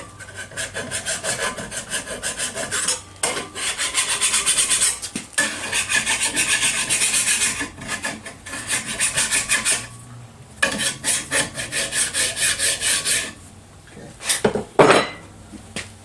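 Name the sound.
cleaning up freshly drilled holes in a cam lock bar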